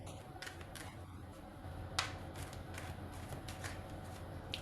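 Tarot cards being shuffled close to the microphone, giving a steady papery riffling with a few sharp flicks as cards flip, continuous and fairly quiet.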